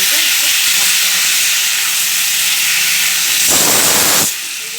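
Pressure cooker venting steam while dal cooks, a loud continuous hiss running throughout, swelling into a stronger burst of steam near the end before easing off.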